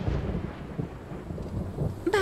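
A cartoon thunderstorm with rain: low, rolling thunder rumbles under a soft hiss of rain, and a short tonal sound cuts in at the very end.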